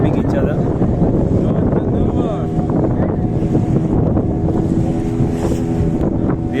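A boat engine drones steadily on open water, with wind buffeting the microphone and faint voices mixed into the constant low rumble.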